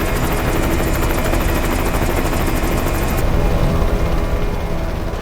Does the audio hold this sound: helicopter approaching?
yes